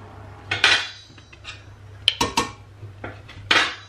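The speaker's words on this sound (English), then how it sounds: "add some more pasta, and continue to do it just to help me to blend and mix my pasta well." Campanelle pasta is mixed in a bowl with a utensil, giving a series of close clinks and scrapes against the bowl in irregular bursts, with no talk.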